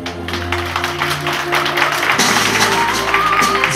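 Guests at a wedding celebration clap together in a brisk, steady burst of applause, with music playing underneath.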